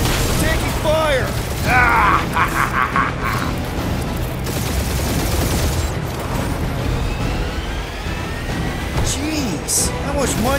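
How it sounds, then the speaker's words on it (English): Gunfire and explosions in a Guardians of the Galaxy space battle, dense mechanical clatter, booms and whooshing passes layered with game music, while voices speak over the action. "We're taking fire!"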